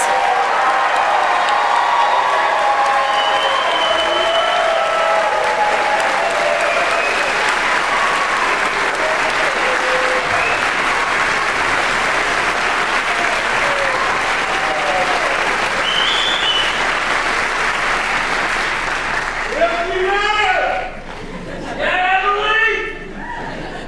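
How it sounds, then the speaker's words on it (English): A large audience applauds newly graduated Forest and Rangeland Stewardship alumni, with loud, dense clapping and a few whoops that hold steady for about twenty seconds, then thin out as voices and a few cheers come through near the end. "Let's give them all a round of applause."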